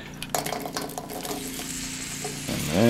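Chipotle chicken chili ingredients sizzle in a hot pan while a spoon stirs and scrapes through them, a steady close frying hiss broken by light clinks of utensil on metal.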